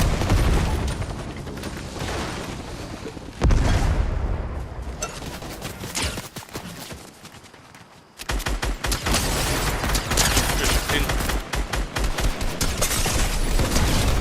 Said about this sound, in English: I see a minigun.